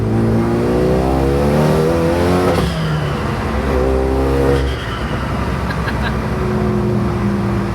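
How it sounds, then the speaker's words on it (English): A turbocharged Renault Megane RS with a forged engine revs and accelerates hard, its rising drone loud and close, with a brief shift-like dip midway before pulling again. "Turbo sounds great."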